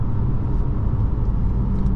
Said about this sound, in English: And the engine, you can hear it a bit, but it's not loud.